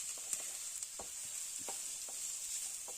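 Vegetables for veg chowmein, including leafy greens, sizzle steadily in a hot pan, with scattered clicks and scrapes as the pieces are stirred; the frying stays close and moderately loud, with no talk.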